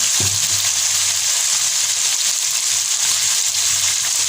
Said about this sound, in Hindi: देखिए, टमाटरों को हमने अच्छी तरह से भून लिया है। अब हम इसमें 1 चम्मच डालेंगे कुटी हुई लाल मिर्च